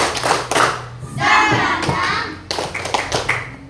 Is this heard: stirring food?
no